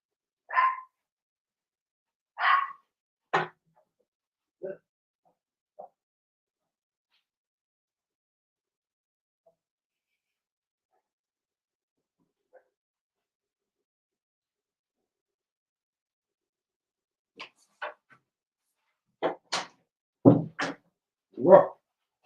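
A dog barks in scattered bursts, a few sharp barks early, then a quiet stretch, then a quicker cluster of loud, close barks near the end, with no talk.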